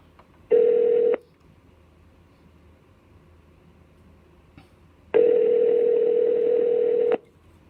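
A telephone places a call with two loud, steady tones, a short one and then a longer one, separated by quiet gaps.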